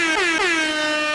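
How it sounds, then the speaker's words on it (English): Air horn sound effect on a podcast, one loud sustained blaring blast with a slight pitch dip, heard alone with no talk. "Where's the air horn?"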